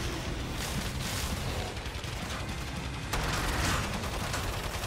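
Heavy gunfire from a big weapon in Killing Floor 2 forms a dense, continuous roar of rapid blasts, loud and unbroken for the whole stretch, with a brief rise in intensity near the end.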